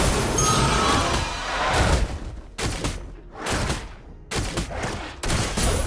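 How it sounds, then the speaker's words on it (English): Granger's guns firing in the Mobile Legends video game, coming in several loud bursts of rapid shots separated by short quiet gaps, with no talking. "My bullets always find their target."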